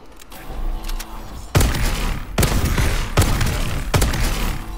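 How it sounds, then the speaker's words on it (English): An S12 semi-automatic shotgun in Call of Duty: Advanced Warfare fires four heavy booming shots at a steady pace, each blast close and loud with a ringing tail, after a short mechanical handling noise. "The S12. Semi-automatic shotgun, holds 8 rounds."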